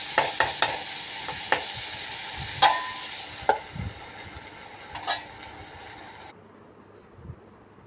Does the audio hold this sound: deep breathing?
no